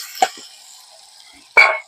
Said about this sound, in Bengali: এবার মশলাটা যে ভালো করে ভাজা হয়ে গেছে